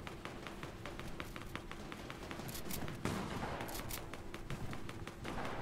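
Rapid gunfire in a Fortnite arena trios match, a quick series of faint, distant shots over a steady background hiss, with a few sharper bursts near the end.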